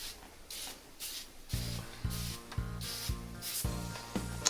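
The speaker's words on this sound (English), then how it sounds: "I'm just going to spray around some of these areas because there's a little bit of grease residue" Several short bursts of oven cleaner spray hiss in a rhythmic sequence onto greasy oven surfaces, close by, with a faint mechanical hum under the later sprays.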